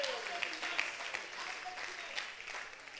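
A church congregation claps hands during a Sunday service, a continuous patter of many hands at moderate distance, fairly faint, with voices underneath.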